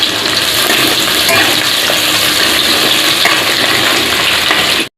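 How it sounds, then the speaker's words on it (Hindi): Chopped onions fry with bay leaves in a pan for a chicken curry, giving a loud, close, continuous sizzle and hiss that holds steady for about five seconds before cutting off abruptly, with no voices. "पियाज को भाजी नेबा"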